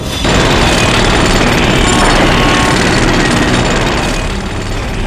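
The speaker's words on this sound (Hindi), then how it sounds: "तुम्हारे घर के बाहर मेट्रो कंस्ट्रक्शन के काम चलने की आवाज और ट्रैफिक की आवाज लगातार आ रही थी" Loud, continuous rattling of heavy metro construction machinery like a jackhammer outside a house, blending with a steady roar of traffic noise.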